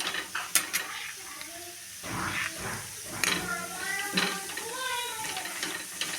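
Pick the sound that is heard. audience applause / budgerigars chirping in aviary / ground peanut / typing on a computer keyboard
ground peanut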